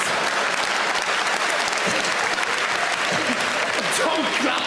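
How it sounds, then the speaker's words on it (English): Loud, continuous comedy-club audience applause during a stand-up routine, dense clapping throughout with a voice faintly audible underneath toward the end. "Don't clap it, it's tragic."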